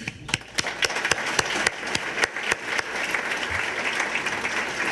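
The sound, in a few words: audience applause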